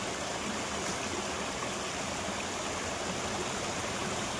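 Cold stream water flows on the Karnala fort trek, a steady, dense rush of running water that stays close and unbroken throughout, with no voices.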